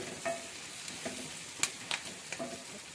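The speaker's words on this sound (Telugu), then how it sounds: "ఈ ఆలుగడ్డ వేసేసి మంచిగా ఇలాగ కలియపెట్టి" Potato pieces stirred in a frying pan for a brinjal, potato, tomato and pea curry, with soft sizzling under a few sharp scraping strokes of the spatula, close and fairly quiet.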